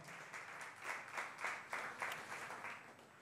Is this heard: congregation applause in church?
yes